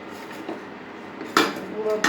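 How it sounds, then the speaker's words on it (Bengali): A metal spoon scrapes and clinks against a pan while semai vermicelli is slowly stirred and fried for nawabi shemai, with a quiet background and a few sharper clinks near the end. "অনেক সময় ধরে একটু আস্তে আস্তে নেড়ে নেড়ে একটু ভেজে নিতে হয়।"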